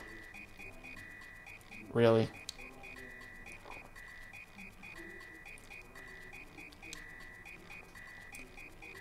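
A frog croaks in the Super Mario RPG video game, one loud buzzy croak early on over a repeating game music loop, with brief talking after.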